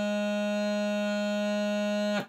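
A low G on a bagpipe practice chanter with all holes properly covered, held as one steady, reedy, buzzing tone for about two seconds and cut off sharply at the end, alone and close.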